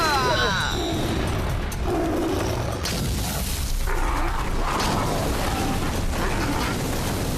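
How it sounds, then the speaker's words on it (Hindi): A big explosion in an animated Hindi-dubbed action cartoon, a loud sustained rumbling boom with roaring debris that fills the whole stretch, with a voice or two briefly heard under it. "अब देखना बड़ा धमाका होने वाला है।"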